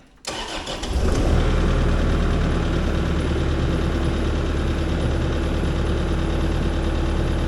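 A car engine cranks and starts, then idles loud and steady nearby with the ignition on during a charging system test, running alone without talk.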